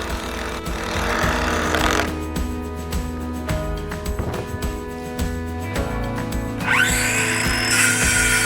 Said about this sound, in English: Well, I don't have a backup battery, but I do have a backup drill.